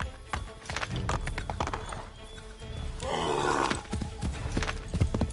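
A horse gallops in Assassin's Creed III, its rapid, rhythmic hoofbeats thudding close and steady, with a brief whinny partway through.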